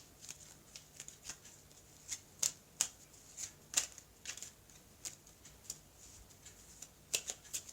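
Oracle cards from a small fairy-tale deck handled and drawn one by one, giving quiet, scattered papery flicks and snaps that come in irregular bursts, close up and alone with no talk.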